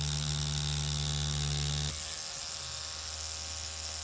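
A tattoo machine buzzes steadily and close while lining in colour, with a constant high whine and low hum that drop away partway through as the motor cuts out, leaving a faint residual hiss.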